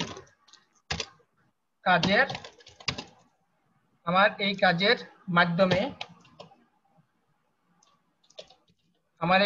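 Brief clicking keystrokes on a computer keyboard, scattered in short bursts between stretches of talking, fairly quiet and close.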